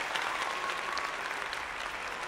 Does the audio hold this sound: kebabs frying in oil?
no